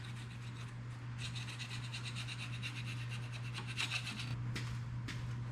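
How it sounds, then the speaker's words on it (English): Scraper working old gasket material off a Ford 351 Windsor V8 engine during a rebuild of a 1986 Ford F250, quiet repeated rasping strokes in short bursts over a steady low hum. "you guys don't care about scraping gasket stuff off"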